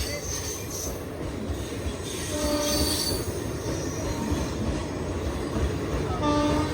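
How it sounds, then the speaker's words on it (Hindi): Jaipur Bayana Express rolling into platform number 1, with loud squealing wheels and rumbling carriages, a continuous close grinding screech throughout and a short horn-like tone near the end. "प्लेटफॉर्म नंबर 1 पे पहुंच रही है जयपुर बयाना एक्सप्रेस"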